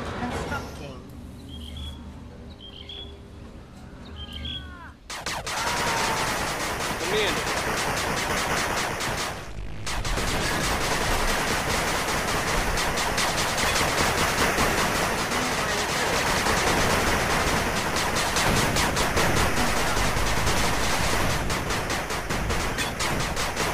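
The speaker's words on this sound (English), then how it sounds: "Machine gun turret under attack." Rapid machine-gun turret fire in the 8-Bit Armies video game, a dense continuous rattle of shots running loud and steady for most of the stretch after a quieter opening.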